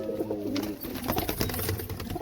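Pigeons in a loft where eggs have been laid coo and rustle close by in a continuous, busy murmur.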